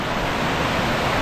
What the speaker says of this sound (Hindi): इधर देखो क्या मस्त वाटरफॉल है